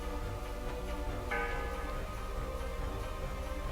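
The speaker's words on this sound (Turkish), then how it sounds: "Çanlar çalıyor, alarmlar çalıyor." Bells ring as an alarm in a video game, a continuous metallic ringing layered with a ticking, clock-like pulse and a sustained tonal backdrop, moderately quiet and steady throughout.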